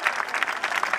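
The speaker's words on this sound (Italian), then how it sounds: "Un applauso, Giorgia è fenomenale" Applause from an audience at a dance school recital in Agropoli, a brief steady burst of many hands clapping at moderate level.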